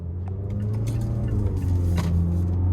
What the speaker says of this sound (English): let's go ahead and take this 2025 Mazda CX-5 Carbon Edition out on the road for a test drive